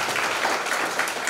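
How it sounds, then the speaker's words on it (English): A conference audience applauds its first presenter at a Python gathering, a dense steady patter of many hands clapping at moderate volume for a brief moment, with no talking over it. "Let's give a big applause to Lucas as our first presenter."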